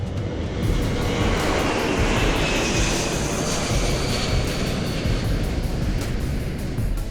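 A Qatar Emiri Air Force C-17A Globemaster III at an air show produces a steady, broad jet roar, loud and sustained throughout without speech.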